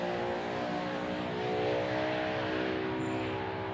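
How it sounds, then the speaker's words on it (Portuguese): A motorcycle passes by outside, its engine a steady droning hum with a slight rise and fall as it goes past at moderate distance, continuous throughout with no talking. "Desculpa essa moto, passou."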